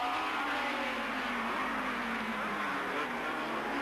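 1985 Formula 3000 race cars, four bunched together, roar past in a continuous loud engine drone with a sliding engine pitch, blending into one sustained wash of racing noise.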